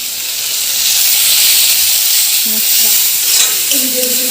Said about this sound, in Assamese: ৰাতিৰ খানা মাংস আৰু বিন ভজা